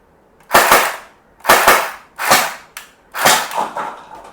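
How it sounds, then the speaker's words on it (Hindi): A SCAR-L electric gel blaster fires four separate sharp shots in semi-auto, each a loud, close crack with a brief tail, spaced roughly a second apart with no talking. "ये फायर होती है सेमी ऑटोमेटिक, आपको बार बार प्रेस करना है।"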